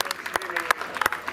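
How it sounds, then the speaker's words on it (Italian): Scattered, uneven clapping at a final youth sports award ceremony, with distinct individual claps rather than a full ovation, while a voice speaks over it nearby. "un forte applauso, grazie."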